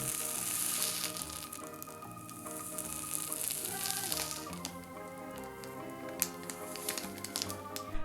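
A continuous hissing sizzle as a red-hot knife cuts through packaged snack foods, with faint crackles and a few sharp pops rising from the steady frying noise.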